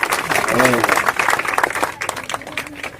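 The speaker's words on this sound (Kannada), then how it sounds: "ಚಪ್ಪಾಳೆ ತಟ್ರಿ, ಹುಷಾರಿದೆ" A school audience claps at a foundation-stone ceremony for a residential school, a loose patter of hands mixed with a voice talking over it, becoming thinner and more scattered toward the end.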